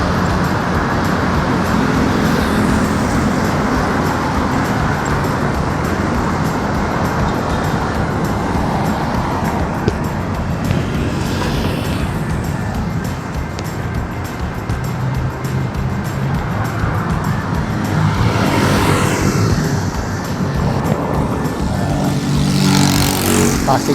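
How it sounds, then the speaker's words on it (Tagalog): Heavy road traffic streams along EDSA in Metro Manila, a loud constant wash of engines and tire roar with passing vehicles swelling in and out, heard close up from the roadside. "Ang dami ng sasakyan."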